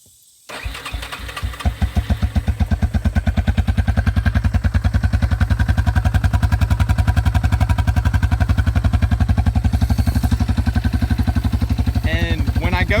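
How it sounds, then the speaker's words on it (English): A newly built vehicle's engine fires up and settles into a loud, steady exhaust drone with a rapid pulsing beat, close to the listener, running continuously throughout. "I'm gonna close it off with a little exhaust clip for y'all."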